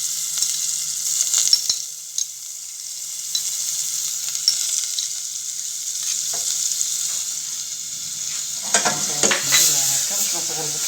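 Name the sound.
butter sizzling in a hot pan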